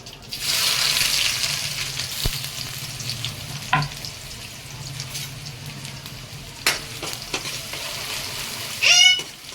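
Onions and curry leaves fry in a pan for a prawn curry, a steady hiss of sizzling oil running throughout with occasional scrapes and clinks of stirring, and a brief sharper burst near the end.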